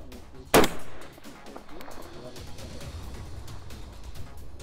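A single loud rifle shot fired at extreme long range, a sharp crack followed by a brief rolling echo, with people talking quietly around it.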